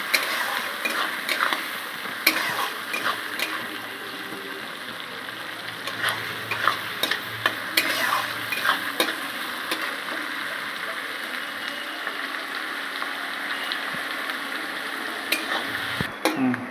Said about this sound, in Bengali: পেঁয়াজটা মেরে ছেড়ে হালকা ভেজে নেবো বেশি ভাজবো না হালকা করে ভেজে নেবো